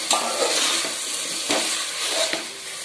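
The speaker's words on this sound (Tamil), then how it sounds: "இதையும் இதோட சேர்த்து நல்லா வதக்கிக்கலாம்." Mushrooms sautéing in a pan with tomato and mint, a steady close sizzle broken by several scraping stirs of a spoon against the pan.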